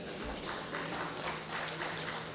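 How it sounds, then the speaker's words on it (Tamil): Around ten people in an audience at a Tamil debate event at the Chennai Book Fair clap briefly. The clapping is a soft, scattered patter that stays steady for a couple of seconds without talking. "ஒரு 10 பேர் தான் ஏன் கைதட்டுறீங்க?"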